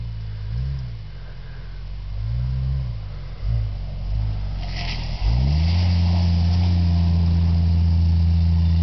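A TJ Rubicon Jeep 4x4 engine rumbles and revs across sand, rising and falling in low surges before settling into a steady, loud drone as it comes close.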